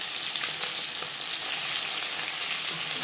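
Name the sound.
bhetki fish frying in a pan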